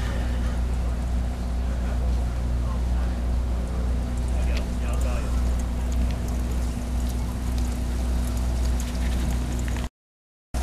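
The sport fishing boat Ranger 85 cruises at sea near the Channel Islands, giving a continuous deep engine drone with water and wind hiss throughout, before the sound abruptly cuts off.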